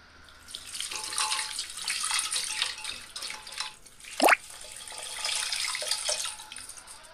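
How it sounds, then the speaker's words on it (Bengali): Water is poured into a lentil and papaya dish during cooking, a steady splashing pour with one sharp gurgling slosh partway through, close and fairly loud. "ভালো করে মাখা হয়ে গেলে পরিমাণ মতো আমি জল দিয়ে দেব।"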